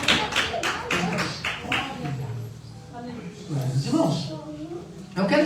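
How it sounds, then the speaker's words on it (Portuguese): A church congregation claps joyfully in a quick, steady rhythm during worship, the beats strongest at the start and then mixing with voices as the clapping thins out. "As palmas bem alegres ao Senhor Jesus"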